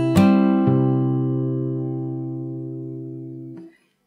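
Fingerstyle acoustic guitar playing a passage from a song: a bright strummed attack, a second lower pluck, then a long ringing sustain fading over several seconds before being muted, alone and close.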